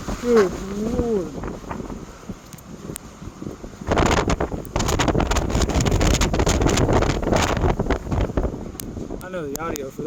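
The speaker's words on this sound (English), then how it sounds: "It's so windy up here." Strong wind high on a mountain at Colorado National Monument roars and buffets the microphone in heavy, continuous gusts, with a voice speaking briefly at the start and again near the end.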